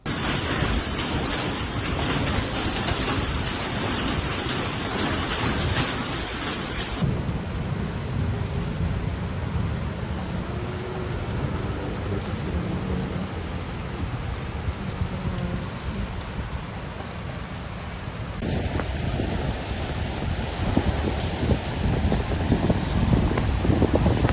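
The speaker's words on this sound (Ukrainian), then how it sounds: "Величезна злива накрила столицю, грім блискавка." A loud, constant roar of heavy rain and gusting wind during a storm in Kyiv, a dense wash of noise with no let-up throughout.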